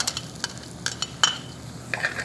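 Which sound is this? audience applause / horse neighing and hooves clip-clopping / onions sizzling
onions sizzling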